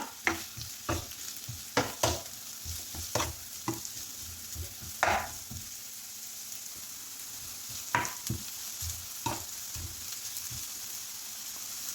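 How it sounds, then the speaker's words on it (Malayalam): Two medium chopped onions fry for prawn masala balls. A spoon knocks and scrapes against the pan in a loose rhythm over a low, quiet sizzle. "രണ്ട് മീഡിയം സൈസ് സവാള കട്ട് ചെയ്തതാണ് അത് ഇട്ട് കൊടുക്കുന്നുണ്ട് എല്ലാം കൂടി ഒന്ന് നമുക്ക് ഇളക്കി കൊടുക്കാം"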